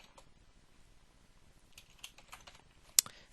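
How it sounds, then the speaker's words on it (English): A few light keystrokes tap on a computer keyboard, faint and close in a quiet room, ending with one sharper click. "So I'm going to type first name,"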